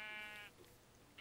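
A sheep in the Minecraft video game gives one brief bleat, followed by quiet, faint game background.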